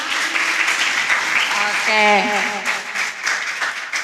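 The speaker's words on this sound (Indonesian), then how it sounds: "Boleh deh tepuk tangan dulu untuk kita semua." Audience clapping at an indoor youth health event on anemia, a steady round of applause with voices talking over it partway through.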